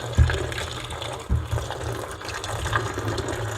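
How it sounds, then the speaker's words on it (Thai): Water splashes and pours as home-grown, pesticide-free long eggplants are rinsed. The close, gushing rinse comes with a couple of sharper splashes and no talking. "เอาเอา มะเขือยาวมาล้างก่อน"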